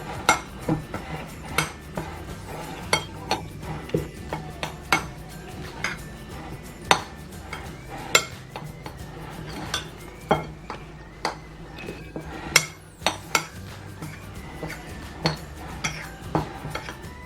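Cornflour coating being mixed in a bowl for zinger shawarma chicken, a steady run of sharp clinks and taps of a utensil against the bowl in an irregular rhythm, close and clear, with no voices.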